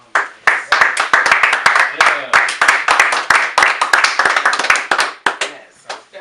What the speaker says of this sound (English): let's clap it up for him